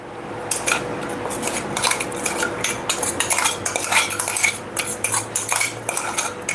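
Spoon scraping and clinking against a bowl while mixing a mixed-flour dhirde batter with coarse ground flour added, a steady run of close, busy metallic taps and stirring scrapes with no voices.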